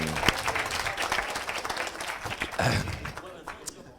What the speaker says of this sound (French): Oh, on l'applaudit hein.